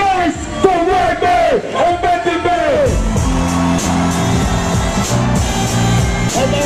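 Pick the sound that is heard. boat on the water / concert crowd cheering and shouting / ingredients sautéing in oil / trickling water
concert crowd cheering and shouting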